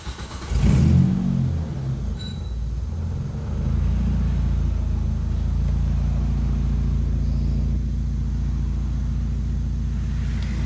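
A Hyundai Elantra fitted with a garage-made standalone ECU cranks and catches, then settles into a loud, steady, close rumbling idle that lifts slightly in pitch partway through.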